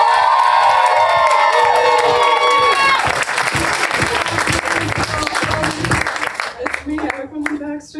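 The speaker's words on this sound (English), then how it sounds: "Thank you all so much for clapping for me." A comedy club audience claps and cheers loudly after a comic is introduced, with whoops and shouts over dense applause that thins out toward the end, close and lively, while voices carry through the crowd.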